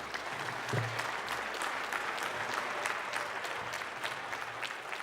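Deputies in Ukraine's parliament chamber stand and applaud to see off a colleague resigning her mandate: sustained, even clapping from many hands across the hall, steady and moderately distant.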